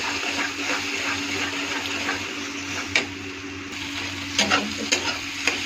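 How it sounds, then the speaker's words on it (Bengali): Beaten eggs, three of them, poured into a hot frying pan and stirred, giving a steady close sizzle with a few sharp scraping stirs toward the end. "3টে ডিম ফেটে রাখা আছে, সেটাকে ঢেলে দিব। ভালো করে মিক্স করব।"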